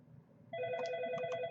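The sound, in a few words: phone ringing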